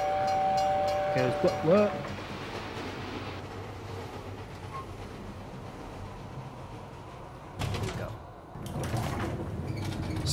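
Animated train moving along a track in the video game 18 Floors, with a whistle blast early on and rumbling rail noise under a quiet voice, then a couple of louder bursts near the end.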